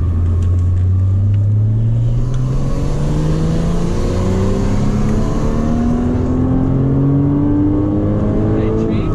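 Onboard a Porsche Cayman on track at Circuit Dijon, the engine loudly rises in pitch through the gears as the car accelerates, with an instructor speaking over the steady roar.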